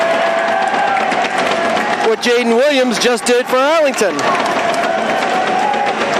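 A home crowd at an Arlington High School boys' basketball game against Lexington cheers and roars loudly, swelling for a few seconds under a commentator's continuous talk.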